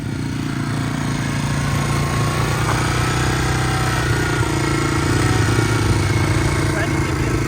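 A 1983 Honda XL250R motorcycle engine idles high with a sticking twist throttle, a steady close-up thrumming drone that holds level throughout.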